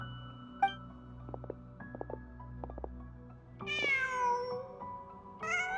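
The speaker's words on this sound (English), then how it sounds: "Huh. Just a cat." A cat in a video game meows several times in clear, close succession, rising and falling in pitch, following a stretch of quiet background music dotted with soft clicks.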